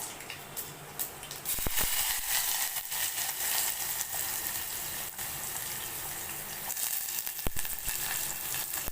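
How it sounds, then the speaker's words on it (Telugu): Oil sizzles steadily in a pan as tempering spices and garlic fry, with a few sharp clinks and crackles rising over the continuous frying hiss. "ఆయిల్ పెట్టాను పోపు దినుసులు వేశాను"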